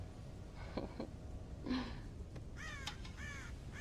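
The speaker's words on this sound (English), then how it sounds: "God damn crows!" Crows raid a corn silo in Red Dead Redemption, giving several scattered harsh caws, some in quick pairs, over a faint rumbling background.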